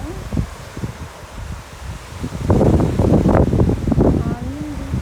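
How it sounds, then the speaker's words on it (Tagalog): Gusty wind buffets the microphone outdoors at a beach in Southampton, Bermuda, at high tide, roaring louder midway, with a low rumble that could be surf; no speech. "Mahangin nga siya, guys, mahangin."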